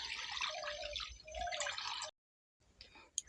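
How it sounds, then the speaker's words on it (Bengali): Water is poured into an iron wok set on a lit clay stove, a close splashing and trickling stream for about two seconds that cuts off abruptly, followed by a few faint drips and small clinks. "উনুনটা জেলে লোহার কড়া একটা বসিয়ে দিয়েছি, ওই কড়ার মধ্যে জল দিয়ে দিচ্ছি।"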